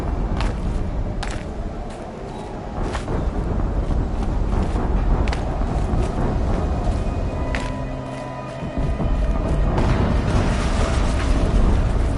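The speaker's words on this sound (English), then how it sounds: "An explosion." Explosion in the video game Horizon Zero Dawn: loud, sustained rumbling blast with a dense low boom and crackling debris, several sharp bursts scattered over a continuous roar, no talk.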